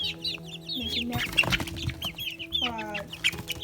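A Naked Neck chicken clucks and squawks in a quick series of calls, close and fairly loud, with some rustling between calls.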